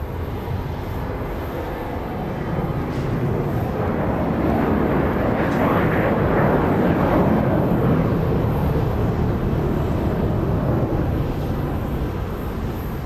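A passenger airplane passing at Dallas Love Field, a steady broad roar that swells toward the middle and stays loud throughout, heard from the ground at an airport.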